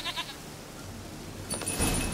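Goat bleating in The Witcher 3: Wild Hunt on PS4, a short cry near the start and a louder, brighter bleat toward the end over low background ambience.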